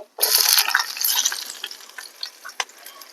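Onions tossed into hot oil with mustard seeds, chana dal, urad dal and cumin, a sudden loud sizzle that fades gradually while a spoon stirs and clicks against the pan.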